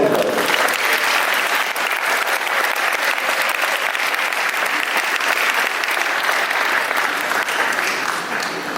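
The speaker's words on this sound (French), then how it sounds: "Applaudissez-les." Guests at a Haitian wedding ceremony applaud the newly married couple, a loud, sustained wash of many hands clapping steadily throughout, close and even with no pause.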